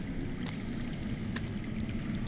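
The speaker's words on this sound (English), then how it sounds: "I hear water. From underground." Water flows and trickles underground inside a cave in the Game of Thrones Telltale game, a soft continuous wash with a couple of brief splashy bursts.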